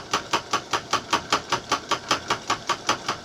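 A lathe on a makeshift temporary setup runs at its fastest speed and rattles rhythmically, about four regular clanking beats per second over a mechanical whir, close and steady, with no talking.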